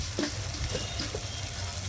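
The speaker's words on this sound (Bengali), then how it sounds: "আর সেটা মশলাটা আমি একটু কষিয়ে নিই।" Kashmiri chili powder spice paste fries in a pan with a soft, steady sizzle and a low hiss. A couple of light stirring clinks sound close by, and no one is speaking.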